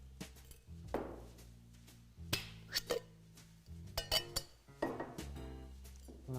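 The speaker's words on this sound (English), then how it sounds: "then we're just going to pour that over ice" Cocktail poured over ice in a glass, with a string of close clinks and clatters of ice and glassware in irregular bursts, fairly quiet overall with no talk.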